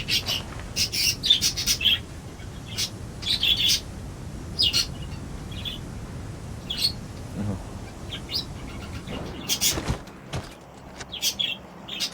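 Small birds chirp and tweet repeatedly in short bursts in the ambient soundscape of the battle royale game PUBG Mobile, the calls fairly close and clear over a low, steady outdoor background.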